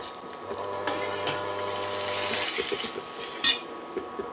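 Onions and tomatoes are sautéed in a pan for kuska, with a continuous soft sizzle and scraping and clinking of a stirring utensil, ending in one sharper clank near the end.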